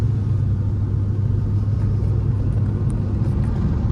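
A Mercedes E55 AMG engine heard from inside the car while driving, a loud, steady low rumble with constant road noise and no clear revving or gear changes.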